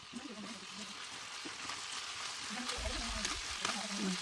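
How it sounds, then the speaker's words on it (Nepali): Local chicken frying with onion in mustard oil in a pan gives a steady, soft sizzle and hiss throughout, with a person talking over it. "त्यस पछाडि मजाले भुटेँ।"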